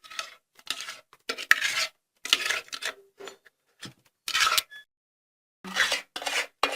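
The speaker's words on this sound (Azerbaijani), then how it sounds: "Belə tökürük bura, qarışdırırıq." Butter being stirred into a cookie dough mixture in a bowl, heard as close scraping and mixing bursts in an irregular rhythm with short pauses between strokes, no talking.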